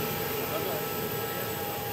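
Aircraft engine noise from an airliner on the Kazan–Ashgabat flight, a steady broadband roar with a whining tone, heard continuously at a moderate level for a couple of seconds.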